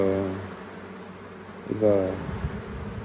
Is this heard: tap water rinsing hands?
no